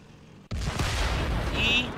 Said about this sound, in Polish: strzał ostateczny